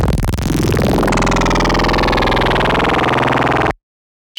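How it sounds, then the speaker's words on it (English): An unprocessed modular synth bass tone, thick and loud with dense buzzy harmonics and a shifting, sweeping character, holds for several seconds and then cuts off abruptly. "we're going to be listening to this modular bass sound"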